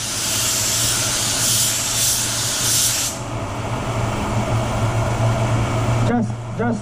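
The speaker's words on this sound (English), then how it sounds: "Gonna put one even coat, just like an even coat." Spray gun laying an even coat of white pearl paint on a Maserati, a loud steady hiss that runs for about three seconds and then stops, while someone talks over a constant background hum.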